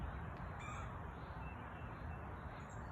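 Crows cawing among school trees outdoors, a few faint, distant calls over a steady wash of ambient outdoor noise with no talking.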